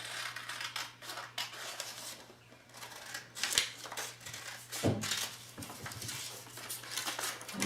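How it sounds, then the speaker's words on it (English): Scissors snipping out a paper label, a string of close, crisp cutting clicks and paper rustles in an irregular rhythm over a faint steady hum, with no talk. "So I've got the label. Let's just cut that out."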